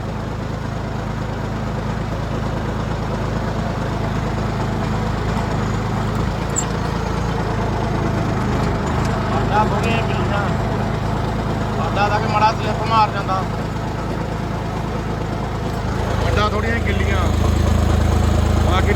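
A tractor engine drones in a Punjab potato field. Its steady, loud low rumble runs throughout, and someone talks over it in the middle part.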